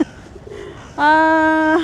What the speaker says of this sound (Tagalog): Ang daming dove. Sa labas ng church.